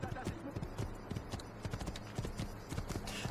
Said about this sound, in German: Wir nehmen uns hier den Schimmel.